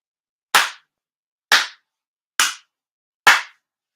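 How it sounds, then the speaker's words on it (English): Four sincere ceremonial hand claps at a Spring Memorial Grand Ceremony, sharp and evenly spaced about a second apart, each ringing briefly in a quiet hall before a prayer. "4 sincere claps"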